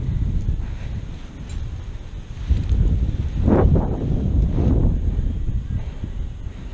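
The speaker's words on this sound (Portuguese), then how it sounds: "Hoje o vento tá muito bom" Steady wind buffeting the microphone on Clearwater Beach during paragliding training, a continuous low rumble with gusts swelling in the middle; loud and close, no talking.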